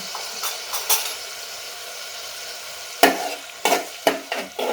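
A spoon stirs a farali dish with salt in a sizzling pan, a steady hiss broken by several sharp scraping strokes and clinks, close and alone with no talk.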